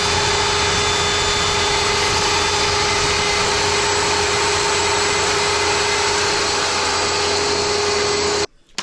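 A saw cuts plywood to build a Layens horizontal beehive, a steady loud motor drone that holds evenly for several seconds and then cuts off abruptly near the end.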